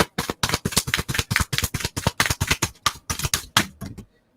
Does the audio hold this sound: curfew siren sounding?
no